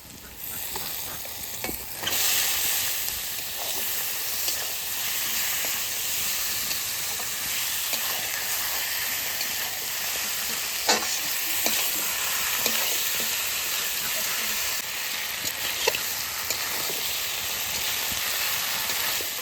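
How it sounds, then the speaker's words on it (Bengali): Meat is fried and stirred with spices on an open stove, a dense and continuous hiss of sizzling fat with occasional scrapes and taps of a spoon, loud and close throughout. "কষানো প্রায় হয়ে আসছে, আর একটু কষাবো।"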